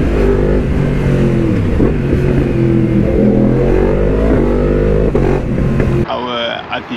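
Yamaha MT-10 motorcycle engine droning loud and steady while weaving between lanes of traffic, pitch rising and falling with the throttle before dropping away near the end.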